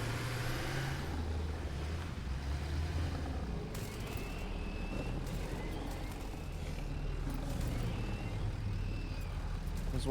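Truck driving in Satisfactory, a low, steady engine rumble running throughout, with faint higher scraping and whirring sounds on top.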